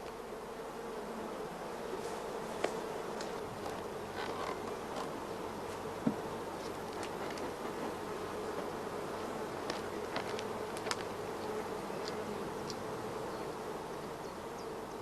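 Honey bees swarm over a queen-rearing frame, a dense, continuous buzzing hum that stays steady throughout, with brief individual wingbeats flickering past close to the microphone and no voices.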